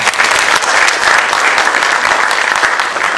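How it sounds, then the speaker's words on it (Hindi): Loud, dense audience applause fills the hall at a Hindi stage play program, a steady wash of many hands clapping without a break and no talk over it. "आज के इस प्रोग्राम पे जो आपने कॉन्ट्रीब्यूशन दिया है उसके लिए एक बार जोरदार तालियां हो जाए"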